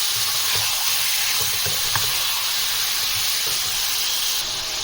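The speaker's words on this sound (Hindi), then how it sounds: "पहले हम इसको मीडियम फ्लेम पे चिकन और प्याज को अच्छे से पकाएंगे।" Chicken and onions cooking in oil over a medium flame in a Sindhi chicken karahi, giving a steady, even hiss and sizzle with faint clinks, close and continuous throughout.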